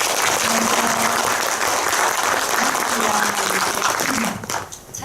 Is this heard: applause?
yes